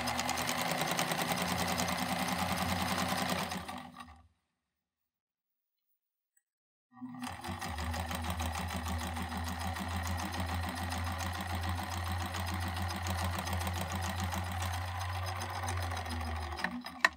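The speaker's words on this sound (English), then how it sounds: "you can even continue to do this on the sewing machine" A sewing machine stitching a fabric surgical-style mask: a steady, fast mechanical whirring and ticking close by, which stops fully for about three seconds and then starts up again with a deeper motor hum underneath.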